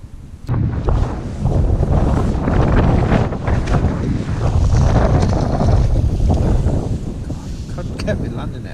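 Gusty wind buffets the microphone beside a carp fishing lake during an open fishing match, a loud, steady low roar with rolling surges that runs the whole length.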